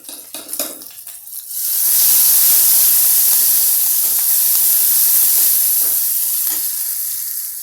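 Onion and curry leaves frying in a pan for Rajasthani panchmel dal: a few quiet clinks, then a loud, continuous hissing sizzle that holds steady close up, with no voices.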